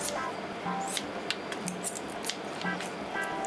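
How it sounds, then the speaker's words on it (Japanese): Scissors snipping through chicken gizzards repeatedly in quick, crisp cuts, close by, with wet squishy handling between snips and restaurant kitchen background hum. "ハサミでパパパとやった方が楽かなと思ってハサミで"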